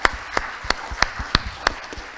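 A small conference audience claps for the panelists with sparse, distinct hand claps at an uneven rhythm, fairly close and modest in volume, with no voices over it.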